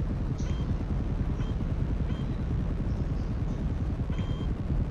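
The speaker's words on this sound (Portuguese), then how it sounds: "O Avery, a gente tem que estar dentro do helicóptero." A GTA V video game helicopter's rotor thrums loudly and continuously, a dense rumbling chop with a few faint high tones on top.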